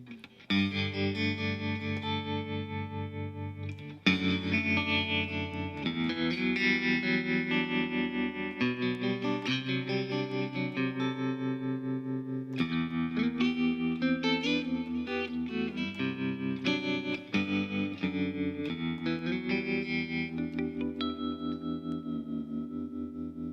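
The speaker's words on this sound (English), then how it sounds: "let's kick our delay and reverb back in and see how this one sounds" Electric guitar plays a chord progression with lingering echoes and a spacious reverb tail, notes blending into each other; purely instrumental, no voices.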